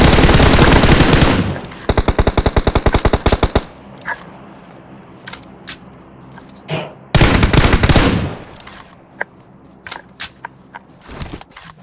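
Loud automatic gunfire in a mobile shooting video game comes in two long bursts, with scattered single shots and clicks between them.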